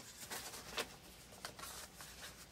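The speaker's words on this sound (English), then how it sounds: "Give you a chance to listen to my rain." Rain falling outside near a craft table indoors, a soft steady patter with scattered brighter drip ticks, fairly faint and continuous with no talking.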